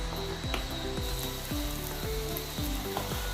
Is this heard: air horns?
no